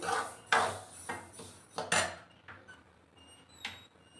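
Finger millet (ragi) roasting in a pan on medium flame, with a spoon or spatula scraping and knocking against the metal pan in a series of irregular clattering strokes, close and fairly loud, no talking.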